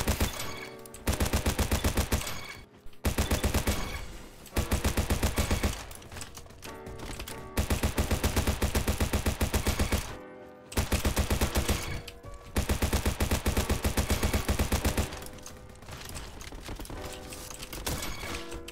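Mini AK rifle fire in a video game: repeated bursts of rapid, loud automatic gunfire separated by short pauses, with a quieter stretch of shots toward the end.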